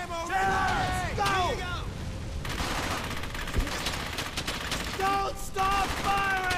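Gunfire crackles in the World War II shooter Brothers In Arms: Hell's Highway, with bursts of rifle and machine-gun shots amid battle noise and whistling sounds, while voices shout beneath the fighting.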